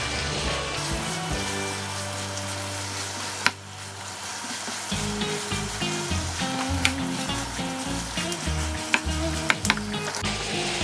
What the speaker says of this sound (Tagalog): Ilalagay na natin yung ating pork. Gigisa lang natin to at ipapa-brown.